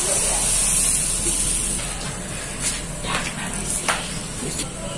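Chitoi pitha batter poured into a hot oiled mould on the stove, a soft steady sizzle and hiss with faint spattering crackles, close up, alone without talk.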